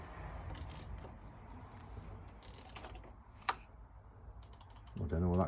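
A turbocharged Mini engine turned over slowly by hand, giving faint mechanical ratcheting and clicking with one sharp click partway through, quiet and close, with a voice starting at the end.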